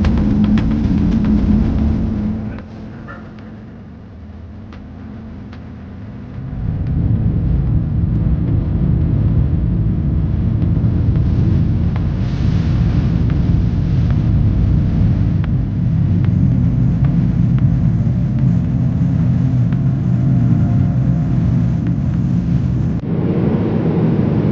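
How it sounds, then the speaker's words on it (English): Inside the cabin of an American Airlines plane taking off from London Heathrow, a loud, steady low engine rumble eases briefly, then swells and holds as a constant heavy drone. "Plane has taken off now."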